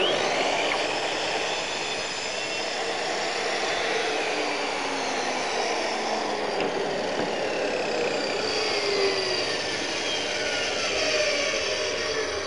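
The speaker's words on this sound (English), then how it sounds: "Again, you sight up through here and make a cut." A 1984 Triton saw table cutting through timber: a steady, dense whine of a running power saw that holds at an even loudness for the whole stretch, close and continuous with no talk over it.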